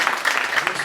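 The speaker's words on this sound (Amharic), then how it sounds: "አጨብጭቡላት።" A church congregation claps in praise during a worship service. The applause is dense and steady, filling the short moment at a fairly loud level.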